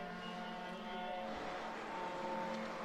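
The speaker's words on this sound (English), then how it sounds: "Alexander Lemaire has got a noisy exhaust" Race car with a noisy exhaust, out on a qualifying heat, drones steadily in the distance as a constant, fairly faint engine tone with no talking.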